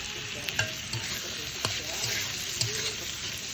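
Dried fish is stirred into a spicy, well-fried masala in a pan, with a steady close sizzle under repeated scraping strokes of a spoon against the pan.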